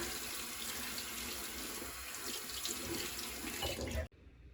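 Tap water runs continuously into a sink while makeup brushes are washed, a steady close hiss and splash that cuts off abruptly near the end.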